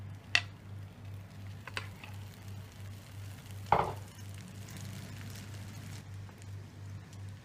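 Egg mixture fries in hot oil in a pan for mock fish curry, giving a soft, steady hiss over a constant low hum, broken by a few brief utensil knocks or scrapes near the start and middle. No one speaks.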